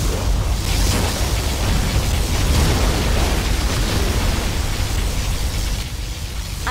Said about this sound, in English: Our particle cannon has been activated.